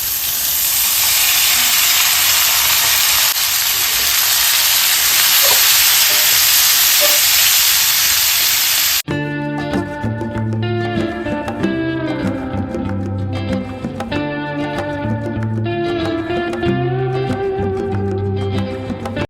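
Soybean chunks and pre-boiled potatoes fry in a hot pan with a loud, steady sizzle for about nine seconds, then the sizzle cuts off abruptly and music takes over.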